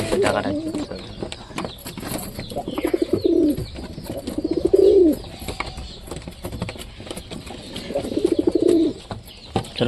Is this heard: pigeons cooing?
yes